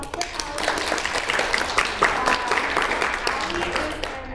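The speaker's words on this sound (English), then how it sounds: "One round of applause for" A student audience at a university talk event gives a round of applause, a brief burst of clapping that swells and stays fairly even for a few seconds, with scattered voices mixed in.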